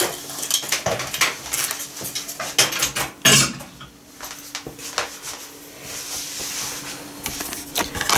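Oatmeal cookie dough made with coconut sugar is pounded with a slotted spoon in a bowl, giving a quick run of irregular metallic clinks and knocks, some sharp and close, followed by softer scraping.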